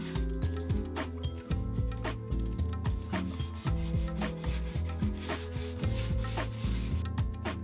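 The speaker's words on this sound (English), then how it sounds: "we decided that a quick sand wouldn't hurt." Sandpaper rubs along a wooden screen door frame in quick, repeated back-and-forth strokes, close and steady for several seconds without pause.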